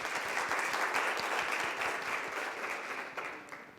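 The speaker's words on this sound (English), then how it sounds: "put your hands together and welcome them by clapping" An audience claps to welcome visiting Uzbek guests at an Expo 2020 event, a sustained crowd applause with distinct close claps, slowly tapering toward the end.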